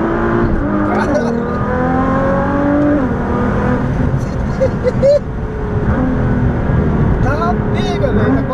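Stock Nissan GT-R with only an aftermarket exhaust revving hard, loud sweeping engine harmonics rising and falling repeatedly, with people talking over it.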